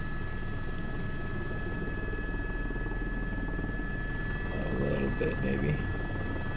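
A helicopter flying a sling load approach drones steadily, with a constant low rotor and engine rumble heard from inside the cabin, and a voice briefly speaks over it near the end.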